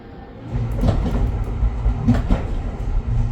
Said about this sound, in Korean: 하코네이모토로 페어 열차가 들어오고 있습니다